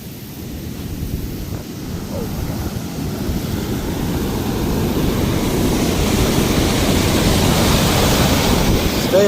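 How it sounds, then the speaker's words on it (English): Water bubbles and rushes out from underneath at a canal, a loud, steady broadband roar that builds slightly over time, with no talking. "That water bubbling out from underneath there is sketchy though."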